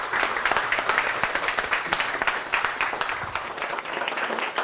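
An audience at an evening event in Martinique claps for a commercial director, a lively, fairly loud stretch of many hands with distinct individual claps standing out, steady throughout and tapering slightly at the end.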